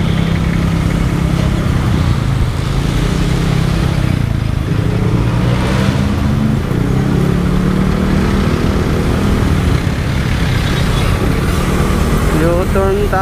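A Honda XRM 125 Fi motard motorcycle riding through city traffic on the way to Quiapo, its mid-pitched single engine droning loudly and steadily with slight pitch shifts, close to the mic, amid street noise.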